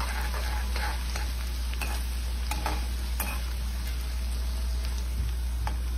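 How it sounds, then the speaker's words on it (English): Onion fries in hot oil in a wok, a steady close sizzle running throughout with scattered scrapes and clicks of stirring on top. "you need to keep stirring it so that the onion doesn't stick to the bottom or to the sides of the hot wok"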